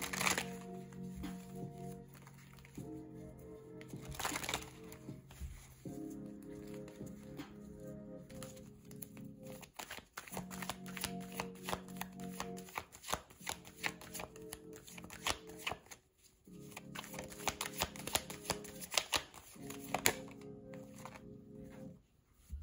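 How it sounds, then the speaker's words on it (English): Tarot cards are drawn and shuffled from a deck, giving soft papery flicks and riffles in irregular bursts close by, fairly quiet with no talking. "I would like to get a few cards from my deck here"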